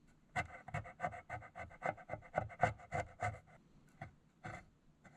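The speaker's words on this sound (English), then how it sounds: "So I'm going to scrape it and then see if I can show you guys kind of what that looks like." Corrosion being scraped from between the electrical terminals of a 7.3 Powerstroke, heard as a quick run of close, rhythmic rasping strokes with short pauses between them.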